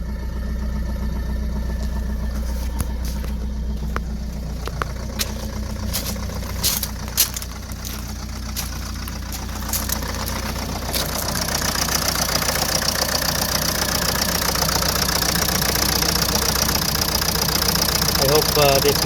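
The engine of a Ford S-Max idles steadily after a K-Seal head gasket repair, a constant low rumble with a hissing wash that grows louder partway through.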